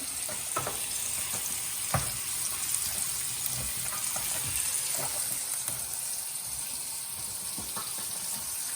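Onions fry in a pan with a steady, dense sizzle that stays close and even throughout, broken by a few faint clicks and pops.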